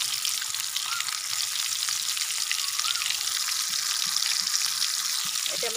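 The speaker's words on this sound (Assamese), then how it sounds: "এই মোৰ তেলখিনি গৰম হোৱাত এটা এটাকৈ দি দিছোঁ" Bitter gourd chops fry in hot mustard oil with a loud, steady, hissing sizzle that runs unbroken throughout, close to the pan.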